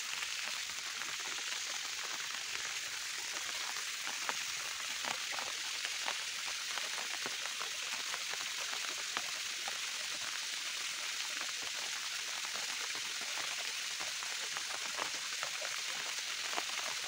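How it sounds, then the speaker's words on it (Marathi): A small village waterfall in the Konkan countryside running after two days of rain, a constant soft hiss of falling water that stays even and fairly faint throughout, with no voices. "बघूया आपण पाणी किती झाले ते कुंबळीच्या धबधब्याला"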